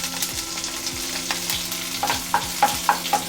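A continuous crackling sizzle of cumin, nigella seeds, chopped green chilli and garlic frying in hot oil in a kadai, with a few sharp metallic stirring clinks near the end.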